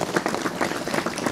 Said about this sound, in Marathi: त्याबद्दल तुम्ही टाळ्या वाजवून त्यांचं स्वागत करा सगळं